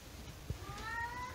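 A house cat gives a faint, short meow indoors near an open window, heard softly over a steady background hum.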